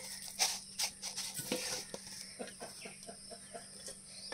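Chickens cluck nearby in short irregular bursts, soft clucks and chirps scattered over quiet background.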